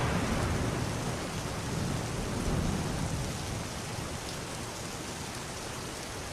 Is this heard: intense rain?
yes